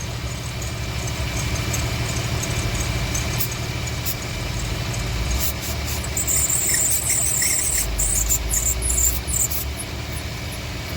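A drive belt squeals steadily under the hood of an Infiniti FX35 with the engine idling, loud and continuous throughout, with a brief extra bout of high chirping toward the end and no talking.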